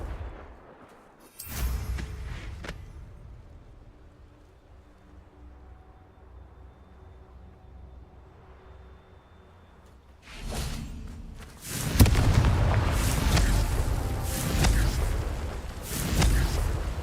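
Confringo fire blast spells exploding in the Hogwarts Legacy video game, a loud boom early on, then a dense, sustained burst of blasts and whooshing impacts toward the end, with quieter rumbling between.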